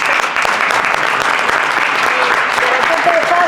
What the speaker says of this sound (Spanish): le voy a pedir un aplauso a nuestra